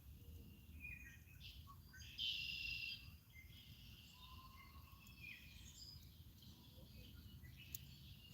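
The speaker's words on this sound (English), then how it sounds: "Red-winged blackbirds are talking to each other." Red-winged blackbirds call faintly from an open field near a campsite, with one brighter, nearer trill standing out over a soft, steady background hum of insects.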